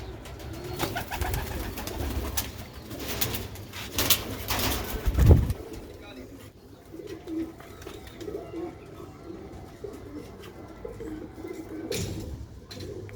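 Sialkoti Master Abdullah "chuhe" pigeons and their young coo softly nearby in a loft, low repeated murmuring calls with a brief louder thump of wings partway through.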